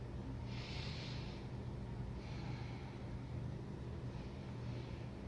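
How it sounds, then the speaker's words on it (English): Slow, deep yoga breaths drawn during a power vinyasa session, three soft hissing inhalation-exhalation swells spread evenly across the moment over a steady low room hum, fairly quiet and without any talking. "So go ahead and just take a couple more breaths here."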